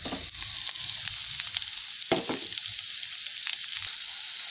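Paneer fries in a pan with cumin powder and garam masala, producing a loud, continuous close sizzle with occasional scrapes and taps from stirring.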